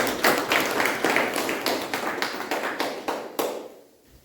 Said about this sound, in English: Please give a thunderous round of applause to the outgoing.